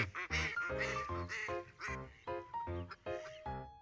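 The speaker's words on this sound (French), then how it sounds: "Quel animal fait coin-coin?" A duck quacks repeatedly in loud, nasal bursts, close by, with brief pauses between the calls.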